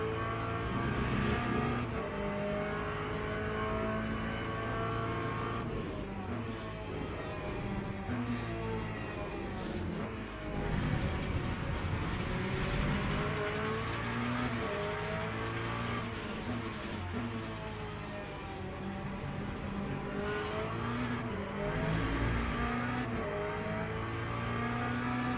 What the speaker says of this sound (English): There's a faster class car behind.